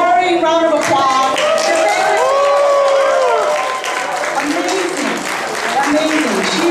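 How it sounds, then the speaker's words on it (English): A crowd at a political convention briefing claps loudly with cheers and shouting voices rising over the steady applause, near and energetic, easing slightly midway before carrying on. "I want all of us to shout and to do a roaring round of applause."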